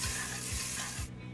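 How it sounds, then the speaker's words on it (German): Loud, steady sizzling and hissing as white wine hits a hot pan of sautéed vegetables, with a few soft stirring scrapes, then a sudden drop as the heat eases. "Dann mit Weißwein ablöschen."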